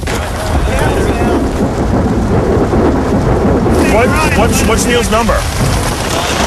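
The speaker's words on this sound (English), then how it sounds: "I'm inside a tent in the middle of a lightning storm." A heavy thunderstorm roars around a tent outdoors, with rain pounding and wind buffeting the microphone in a loud unbroken wash, and voices shouting over it.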